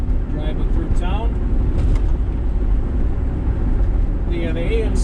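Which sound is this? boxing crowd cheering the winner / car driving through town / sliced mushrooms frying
car driving through town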